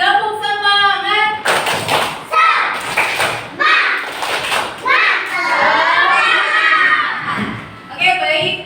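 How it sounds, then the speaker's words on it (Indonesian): Children in an elementary school classroom in Jakarta clap in a rhythmic spirit-clap routine, sharp broadband bursts in short groups mixed with loud children's chanting and a teacher's voice. "Tepuk semangat."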